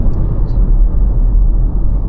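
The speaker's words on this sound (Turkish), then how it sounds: "130'larda falan rüzgar sesi gelmeye başladı." Steady broadband wind roar and low road rumble inside an MG4 electric car at about 130 km/h, continuous and fairly loud with no talking.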